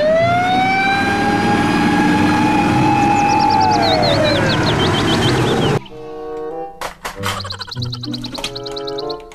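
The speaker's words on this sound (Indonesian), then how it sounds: "Mobil truk pemadam" A loud wailing fire truck siren rises and falls with a warbling yelp, then cuts off into sharp clanks and metallic knocks.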